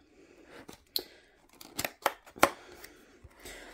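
A diamond painting gift box being opened by hand, giving a few sharp crinkling, tearing and clicking bursts of cardboard and packaging spaced over several seconds, close and fairly quiet with no talking.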